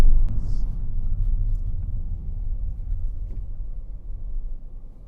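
A 2023 Nissan Kicks e-Power drives on electric power with a smooth, low road rumble that fades slightly over time, quiet and steady with no engine roar.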